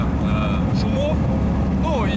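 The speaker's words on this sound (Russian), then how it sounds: "салон много шумит из-за того, там, что торпеда немного сломана" Lada Niva 4x4 cabin on a winter road with a slightly broken dashboard, giving a steady, loud low engine and road rumble throughout, with faint rattles and whines and voices talking over it.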